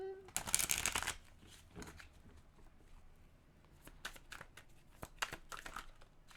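Tarot cards shuffled in a quick riffling burst near the start, then lighter scattered flicks and card handling, close and fairly quiet; no one talks over it.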